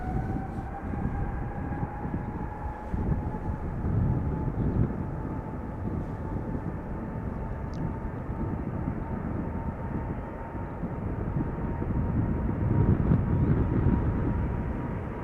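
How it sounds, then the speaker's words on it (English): A KLM Boeing 777-300ER airliner at Schiphol Airport gives off a continuous, fairly distant engine roar with a faint steady whine running through it, slowly swelling louder toward the end, with no voices. "It is a KLM 777-300ER going to Paramaribo in Suriname."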